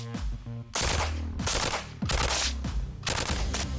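Loud bursts of submachine gun fire from a Sterling MK4 and an MP7A1 at a training range, four rapid strings of shots separated by short pauses, close and sharp.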